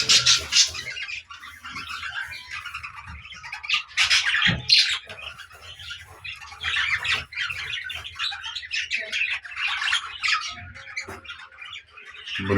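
Caged budgies kept on a home balcony, screened with cloth for winter, squawk and chirp in quick overlapping bursts, near and lively, with scattered sharper calls throughout.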